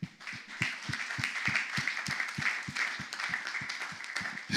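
A church congregation claps in a steady, evenly spaced rhythm, moderately close and fairly faint, with a hum of voices underneath.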